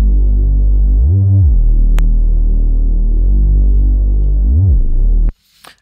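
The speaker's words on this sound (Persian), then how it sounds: "بیس پد در واقع داشتم که صداش اینجوریه" A bass pad synth in FL Studio plays alone as a loud, deep sustained hum with slow swells and two pitch bends, cutting off abruptly near the end.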